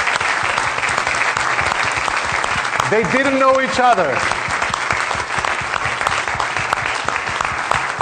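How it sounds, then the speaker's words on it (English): A summit audience claps loudly and continuously throughout, a dense wash of applause, while a voice briefly speaks over it partway through. "And to continue these rounds of applause, the fellows and students, DSSG 2017."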